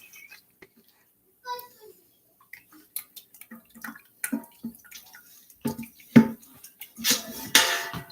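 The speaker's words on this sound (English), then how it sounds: "I'm going to pour this oil" Oil poured into a container while making coffee scrub goat milk soap, a few short splashy pours and drips in a kitchen, with light knocks of utensils and a voice speaking now and then.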